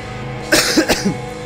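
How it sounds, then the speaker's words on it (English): A person who is still a little sick gives a short burst of two or three close, sharp coughs over steady background game music. "I'm still a little bit sick, and I keep coughing like every 2 minutes."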